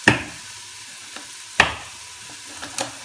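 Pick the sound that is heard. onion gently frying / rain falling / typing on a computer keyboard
onion gently frying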